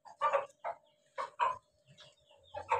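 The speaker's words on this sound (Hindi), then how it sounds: "ये देखो आवाज़ें दे रहा है कि आ जाओ आ जाओ खा लो।" A rooster clucks nearby in short, repeated bursts calling hens to food, a quick series of soft, throaty calls separated by brief pauses.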